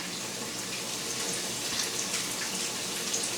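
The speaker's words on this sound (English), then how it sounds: "Oh yeah, look how nice that fries so quickly." Pork schnitzel fries in a hot pan of oil, giving a loud, steady, close sizzle that hisses without a break.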